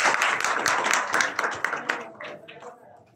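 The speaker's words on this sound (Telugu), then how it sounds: "ఆది దంపతులు కూడా చప్పట్లు గట్టి కొట్టాలి" An auditorium crowd claps at a World Disabled Day ceremony at Ravindra Bharati, with dense, lively applause that gradually thins and fades toward the end, plus some faint voices.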